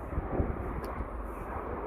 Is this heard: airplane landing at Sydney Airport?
yes